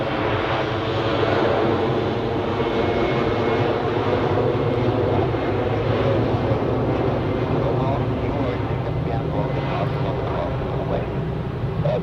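An airplane departs Zurich Airport on an evening, its engines making a loud, steady roar that holds for the whole stretch, with no talk.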